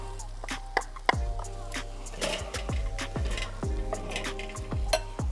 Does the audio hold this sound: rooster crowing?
no